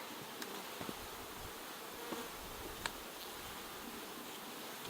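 Honeybees swarm around a five-frame nuc hive as its frames are moved into a new hive box, making a dense, continuous buzzing that stays close and steady with faint rustles.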